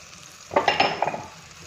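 Garlic goes into hot oil tempering with cumin and asafoetida for a raw mango pickle, a brief burst of sizzle and stirring that lasts about half a second before it fades back to quiet.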